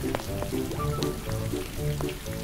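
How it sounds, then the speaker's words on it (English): Steady broadband hiss of rain falling on surfaces in a Peppa Pig cartoon, continuous and fairly loud, with faint tonal music beneath. "And oh no, it begins to rain."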